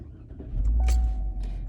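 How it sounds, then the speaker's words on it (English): A car engine turns over and starts on a cold day by the beach, a low rumble swelling up and settling into a steady idle. "I'm gonna turn my car on."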